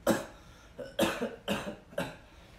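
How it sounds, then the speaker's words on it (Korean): Four distinct coughs in quick succession, fairly close and loud, with brief pauses between them. "아, 기침이 나오네"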